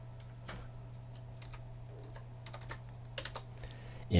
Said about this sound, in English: that lets you know that I'm typing on that text